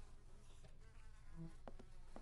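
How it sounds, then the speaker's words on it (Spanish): Flies buzz around a corpse in The Walking Dead video game, a steady close insect drone with a few brief sharper buzzes passing by and no voices. "Está cerca de un cadáver, porque escucho las moscas."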